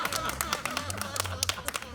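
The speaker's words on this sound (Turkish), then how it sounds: "Alkışlayın çok güzel." Audience at a village theatre performance in İzmir clapping in scattered, uneven bursts, moderately close, mixed with voices and movement around the stage.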